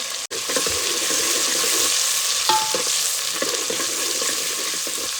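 Chilies and garlic frying in a pan with onions for urad dal, a loud, dense, continuous sizzle close up, with a brief clank at the start and faint stirring scrapes, no voices.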